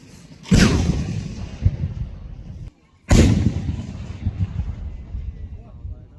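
Old cannon shells detonated in a controlled disposal at Cox's Bazar, two loud booming blasts about three seconds apart, each trailing into a long rumbling roar with wind buffeting the microphone.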